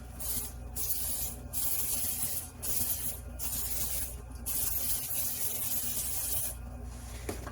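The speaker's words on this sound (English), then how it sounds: "we're just going to spray it also with cooking spray" Cooking spray hisses from a can into a pan in several short bursts before a turkey breast goes in, with brief pauses between sprays, close and fairly quiet.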